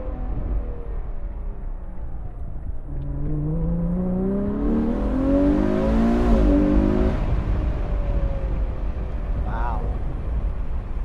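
A Ferrari 812 GTS in race mode accelerating, its engine note rising in pitch through a build of revs to a peak, then easing back, heard from inside the car.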